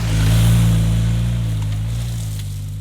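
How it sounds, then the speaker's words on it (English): An adventure bike engine holds a steady, constant throttle while riding through sand, a loud continuous drone that swells as it passes close and then eases slightly as it moves away. "you can hear how smooth and constant I'm trying to be with the throttle as I pass the camera"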